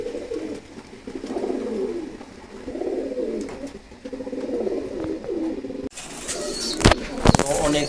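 Several rounds of low, rolling pigeon coos rise and fall at a pigeon farm, followed by some sharp rustling and clattering near the end.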